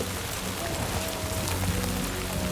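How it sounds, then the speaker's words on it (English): Heavy rain pours down in Death Stranding 2, a dense, steady hiss of drops drumming on surfaces with no break, loud and close throughout. "This is some heavy rain"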